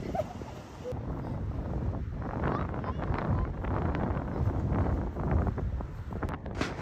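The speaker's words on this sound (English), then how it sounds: "The wind is strong enough." Strong gusty wind in a park during kite flying, rumbling and buffeting the microphone continuously and fairly loudly, masking other sounds.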